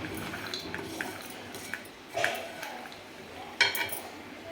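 Roasted peanut mixture for peanut chutney is scooped out of a pan after the gas is turned off, with a few soft scrapes and sharper metallic clinks separated by quiet gaps.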